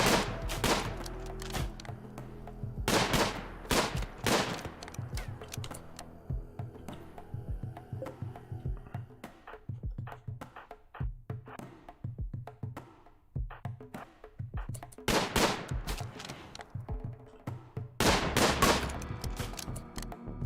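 Gunfire in the video game RimWorld: several sharp bursts of shots and rapid fusillades ring out, separated by quieter stretches of game sound with scattered smaller pops.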